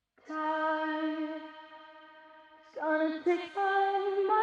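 A sung vocal line drenched in chorus and a long plate-style reverb, held notes swelling and shifting pitch over about four seconds, the effects thickening the tone and leaving a wide, washy tail behind each phrase.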